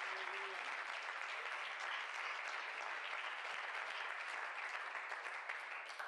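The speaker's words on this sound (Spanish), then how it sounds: "Un aplauso fuerte al Señor Jesús." A church congregation applauds together, a steady wash of many hands clapping, sustained and even throughout at moderate distance.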